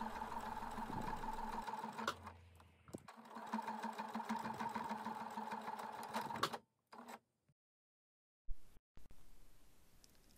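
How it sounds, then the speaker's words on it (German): A sewing machine topstitching close along the edge of a small fabric purse, running in a steady fast mechanical whir for several seconds with a brief pause, then stopping, followed by quiet handling sounds. "Anfang und Ende der Naht natürlich verriegeln und einmal knapp an der Kante entlang"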